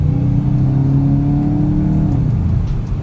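2022 VW Golf 8 GTI accelerating hard to overtake, heard from inside the cabin as a loud rising engine tone that holds for about two seconds, then eases off with a rushing road rumble.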